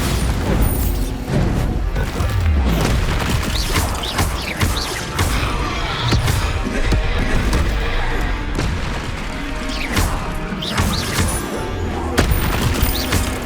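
Spell blasts from combat in the Hogwarts Legacy video game, a dense, continuous barrage of loud booms, crashes and impacts layered over one another, with shouted voices mixed into the din.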